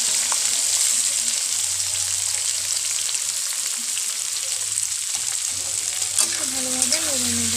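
Chopped beans, carrot and capsicum sizzle loudly in a hot wok for fried rice, a steady close frying hiss with occasional stirring scrapes and clinks, no talk.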